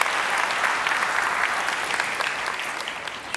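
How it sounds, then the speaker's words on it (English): Steady applause from an audience at a theatre event, a dense, even patter of clapping hands running throughout at moderate loudness with no talk over it. "clap for Christina, clap for all the amazing chairs."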